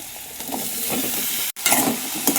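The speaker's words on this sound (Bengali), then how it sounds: "সিদ্ধ করা ডুমুর আলুটা দিয়ে আবারও ভালো মতন নাড়িয়ে চাড়িয়ে নিতে হবে।" Boiled fig and potato stir-fry with spices in a pan, giving a steady, close sizzle with scraping stirring strokes and a brief drop-out midway.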